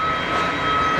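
An airliner rolls out fast along the runway at Geneva Airport after landing, a steady broadband engine roar with a thin whine, heard at moderate distance for about a second.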